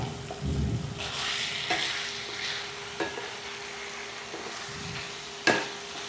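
Silken tofu fries in a wok with minced pork, a steady close sizzle under which a spatula scrapes and stirs in a few distinct strokes, with one sharper clack near the end.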